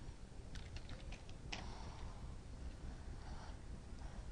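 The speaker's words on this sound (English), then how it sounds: "then go to run and type in regedit" Quiet typing of a short command on a computer keyboard, a quick run of light key clicks followed by a firmer tap, then near silence with faint room hiss.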